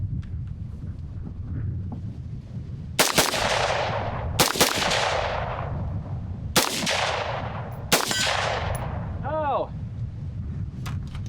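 A scout-configured AR rifle fires at targets until the magazine runs empty: four loud, sharp shots at uneven intervals, each with a ringing decay, followed by a brief exclamation from a voice.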